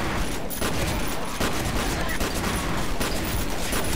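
Shotgun fire in the video game F.E.A.R., a dense burst of repeated close, loud blasts layered into continuous heavy gunfire with no pauses.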